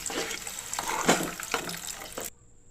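Water poured into a pan of frying chili paste for egg curry, a steady splashing stream that runs for about two seconds then stops abruptly.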